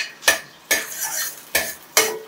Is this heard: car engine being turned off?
no